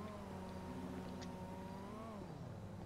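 AI sports cars pass by in GTA V, a steady engine drone with a tone that rises and then drops as they go by, fairly faint and with no talking.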